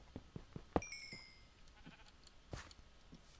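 Sheep bleat in a video game, several short, quiet calls spread across the moment with a couple of sharper game sound effects between them, no talking.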